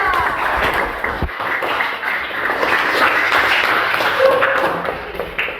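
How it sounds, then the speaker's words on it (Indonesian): A class of students gives a round of applause, a busy patter of clapping with a few sharper taps and thuds, steady and fairly close, with some faint voices mixed underneath. "Oke, tepuk tangan."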